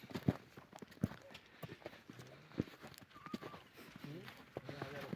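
Horse hooves clip-clop in an uneven walking rhythm in a village in Kosmach, several distinct knocks against a background of people talking.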